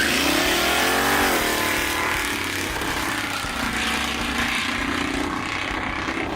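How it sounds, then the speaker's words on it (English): Cars drag racing on a back road, engines revving hard and rising in pitch as they accelerate away, a steady loud roar throughout with no talking. "just to see how they do in a very rushed, poorly recorded drag race"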